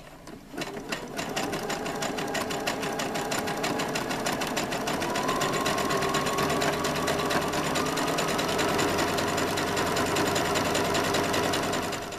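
Sewing machine running steadily for a long stretch, sewing a zigzag stitch with short stitch length and wide stitch width around fabric, a loud, fast, even mechanical rattle close by.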